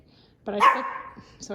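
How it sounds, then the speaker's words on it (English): Pet dog at home before an Appalachian Trail thru-hike, giving one clear near bark followed by a short yip as the clip ends, while someone speaks. "that's my dog"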